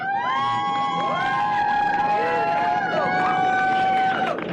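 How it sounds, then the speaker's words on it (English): A crowd of people cheers at a rocket launch, steady loud shouting and whooping with rising whistle-like calls sustained throughout, the voices blended into one continuous roar. "There's like 8 people cheering"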